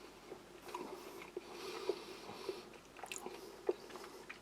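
Someone chews dry, sugary vegan chocolate from a US Army kosher combat ration, giving soft, irregular crunchy bites and squishy mastication up close over quiet room noise.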